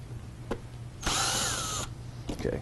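A power drill backs a Phillips screw out of a Ford F250 seat in one sharp whirring burst of just under a second. The tool sounds close and loud, with faint clicks and handling noises around it.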